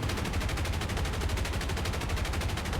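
Rapid, sustained machine-gun fire from a PV-2D Harpoon's battery of .50-caliber guns in War Thunder, a dense, evenly pulsing burst running loud and unbroken throughout with no talk.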